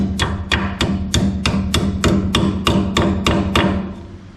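Steady metallic hammer blows bend a loose brake line bracket back down on a Bronco during a drum brake and rusty brake line job, about a dozen sharp, evenly spaced strikes close up with no talking.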